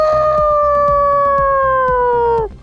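A voice imitates a small dog reacting to a scolding big dog: one long, high, whining howl that slowly slides downward and breaks off after about two and a half seconds, loud and close.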